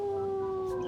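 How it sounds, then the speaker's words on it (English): A wolf howl, a long steady sustained tone holding one pitch with faint higher harmonics, carrying clearly and alone for the full second. "Where the fuck is that howl coming from?"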